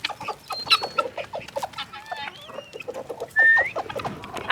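Backyard chickens, pet hens fed a treat-like feed, clucking and chirping in a busy, irregular patter of short calls, close by, with a brief louder squawk near the end.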